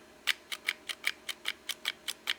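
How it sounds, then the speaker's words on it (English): Smith & Wesson M&P9 pistol's trigger return spring, its coils rubbing, makes eleven evenly spaced sharp clicks close by, a steady ticking rhythm with nothing else around it. "What that noise is the trigger return spring, the coils of it rubbing on something"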